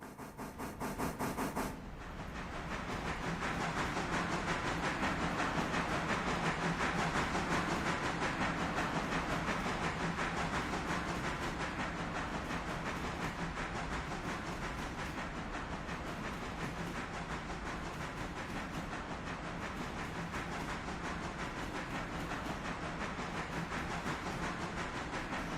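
A train carriage rolls steadily along the rails in the railway game Railroader, starting in abruptly and holding a continuous hissing, rumbling drone with faint rhythmic clatter for a long stretch.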